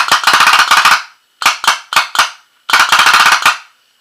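A PMR 2011 Proto Matrix Rail paintball marker fires with no paint loaded, three loud, close bursts of rapid popping shots separated by short gaps, the middle burst made of single spaced pops, with nobody talking.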